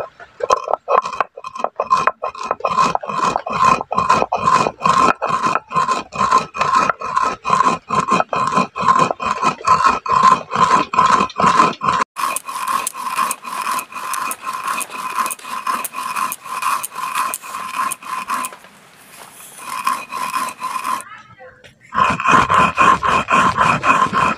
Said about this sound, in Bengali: এবার আমি শিলনোড়ার মধ্যে দিয়ে ভালো করে গুঁড়ো করে নেব।